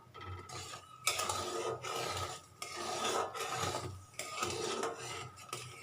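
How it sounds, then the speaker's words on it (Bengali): A spoon scraping and stirring coconut nadu mixture in a pan over a low gas flame, a steady rasping rub in repeated strokes with brief pauses, close and fairly loud, without talking. "এভাবে আমি মিনিট 3 আমি কন্টিনিউ নাড়বো"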